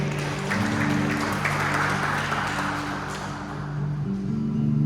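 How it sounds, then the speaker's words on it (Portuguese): Church congregation clapping for the Lord during a worship service, a steady continuous wash of applause with sustained music tones underneath throughout. "Você pode dar uma salva de palmas ao Senhor?"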